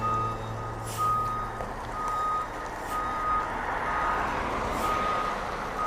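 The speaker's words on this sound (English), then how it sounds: "he's just reversing it into the workshop to have this wheel looked at" A 2016 Entegra Anthem motorhome with a leaking rear hub backs into a workshop. Its reversing alarm beeps in a steady repeating rhythm over a low diesel engine rumble, close by, with no talk.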